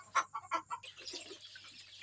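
Chickens cluck in their coop at dawn, still settled in their places: several close, distinct clucks open, then softer, quicker chattering calls follow.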